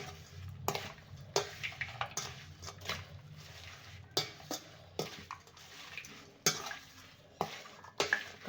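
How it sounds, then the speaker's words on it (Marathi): Mango-ginger pickle being mixed with cooled oil, a spoon scraping and clinking against the bowl in irregular strokes, fairly close, with no talk. "आता आपण तेल घालून घेऊया आणि मिक्स करून घेऊया व्यवस्थित"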